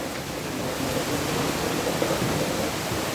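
Heavy rain pours down in front of a house, with water streaming off the roof in a dense, continuous hiss and roar that stays steady and close throughout, with no voices.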